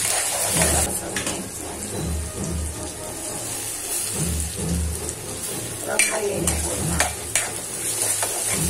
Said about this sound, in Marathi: कांदा, हा आहे कांदा, घेऊया त्याला सातवण्यासाठी